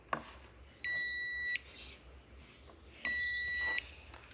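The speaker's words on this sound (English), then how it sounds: "You get the beep." A multimeter set to ohms gives two steady, high continuity beeps, each under a second long and separated by a short quiet gap, while a spare pin is probed on a MoTeC E888 connector during a MK4 Supra install.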